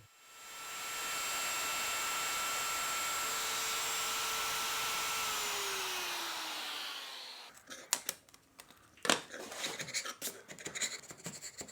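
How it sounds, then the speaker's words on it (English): A router whines steadily while cutting mortises in reclaimed white oak barn wood for a tabletop repair, its pitch dropping as it winds down, followed by scraping and knocking of wood and tools up close. "I'll use the router to cut the mortises out."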